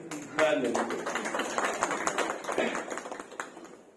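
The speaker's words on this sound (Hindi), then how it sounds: "ताली बजा दो इनके लिए।" Audience at a religious discourse clapping for two children, a lively burst of many hands applauding together, moderately loud and continuous, gradually thinning out toward the end.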